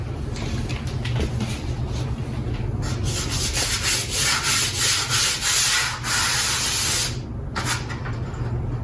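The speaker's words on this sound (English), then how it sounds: "just a regular plain piece of chalk, and you just rub it on the whole entire surface" Plain stick of chalk rubbed back and forth across a magnetic chalkboard surface, a steady close scratchy scraping that swells and eases in repeated strokes with a brief pause near the end.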